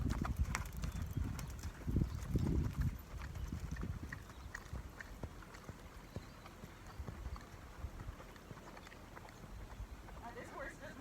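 Hooves of a gaited horse clop in an even rhythm at a flat walk heading downhill, close and fairly soft, with someone talking over the footfalls.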